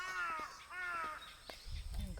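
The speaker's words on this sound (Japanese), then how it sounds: "カラスが訴えてるんでしょうか" Crows cawing at the foot of Mount Tsukuba near a shrine, several harsh, repeated calls in quick succession, fairly close and clear, followed by a burst of low rustling noise.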